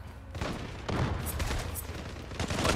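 Continuous gunfire in the online shooter Zula, a dense rattle of rapid shots with a few louder bursts standing out across the whole stretch, steady and fairly loud throughout.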